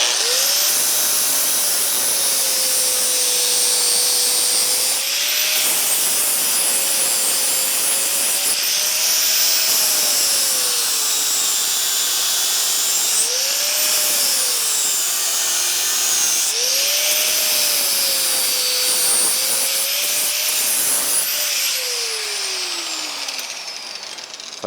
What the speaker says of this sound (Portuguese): Agora eu só vou passar a lixadeira para acertar os detalhes.